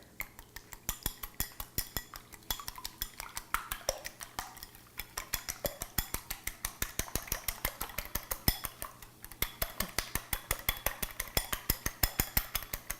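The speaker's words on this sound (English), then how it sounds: "So while those cook, we'll beat 2 eggs." Two eggs beaten briskly with a utensil in a bowl, making a long run of fast, regular clinking taps that continue steadily without pause.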